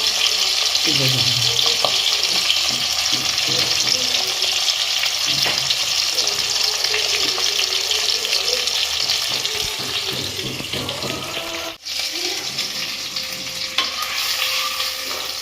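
Whole pabda fish frying in oil, a loud, dense, continuous sizzle close up, with occasional faint scrapes of a spatula and a faint voice beneath it.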